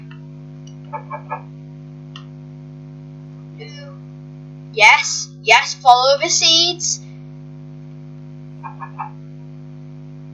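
A blocky Minecraft chicken lets out a few short, soft clucks spread out over the clip, while someone talks briefly in the middle.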